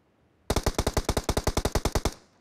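Rapid automatic fire from an M416 rifle in a BGMI team deathmatch: a single burst of about sixteen evenly spaced, loud shots lasting under two seconds, then a short decaying tail, heard alone.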